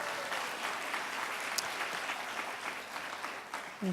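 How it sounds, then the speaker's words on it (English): A steady wash of audience applause at a scholarship event, moderately distant and even throughout, with no voices standing out over the clapping. "Can we give another round of applause?"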